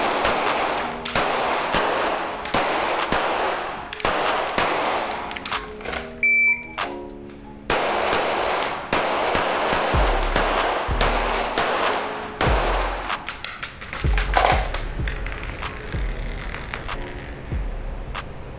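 Gunfire at a private shooting range, with rapid repeated shots in long bursts and a few pauses between volleys. The shots are loud and close, and the clip holds no speech.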